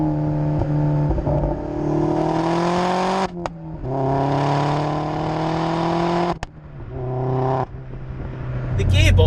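A turbocharged Vauxhall Astra VXR Nurburgring Edition engine revs hard and close, its tone climbing steadily in several long pulls with short breaks between them as the gears change.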